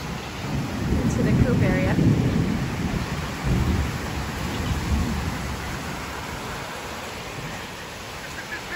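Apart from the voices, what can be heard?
rain and thunder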